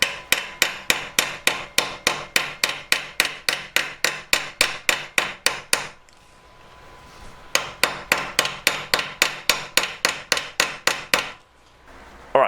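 A chunk of metal hammered to flatten and stretch it, a steady run of sharp ringing blows at an even rhythm, loud and close, pausing once midway before a second matching series resumes.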